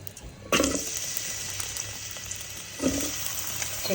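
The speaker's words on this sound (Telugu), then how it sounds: "దొండకాయలు ఫ్రై చేసుకుందాం." Ivy gourds fry in two to three tablespoons of oil in a pot for chutney, giving a steady close sizzle with occasional louder spatters as the pieces are stirred.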